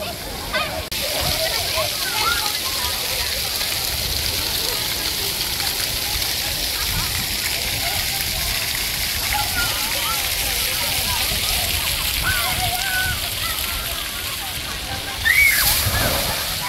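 Water splashes and sloshes steadily at a children's water park at Tumby Bay on the Eyre Peninsula, a constant wash of spray with a brief louder surge near the end, while voices talk nearby.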